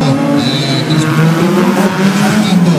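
Race car at a motor show, its engine screaming loud and near at high revs against the limiter before shifting up a gear, with a steady, dense roar throughout.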